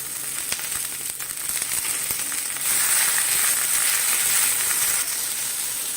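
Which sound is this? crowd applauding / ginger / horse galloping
ginger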